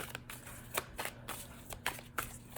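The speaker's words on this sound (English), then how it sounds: "so we're just gonna shuffle and shuffle and shuffle" Tarot cards riffled and shuffled in short repeated bursts, close and crisp, with no talking.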